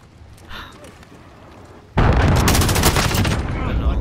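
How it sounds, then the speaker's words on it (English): Explosive gunfire and a loud blast in Call of Duty Modern Warfare, starting abruptly midway after quieter game ambience and continuing as dense, sustained bursts of shooting. "Enemy cruise missile incoming!"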